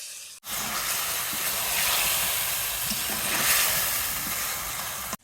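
Chicken lollipops simmer in a sauce sweetened with honey, giving a steady loud hiss and sizzle with soft bubbling throughout, no talking.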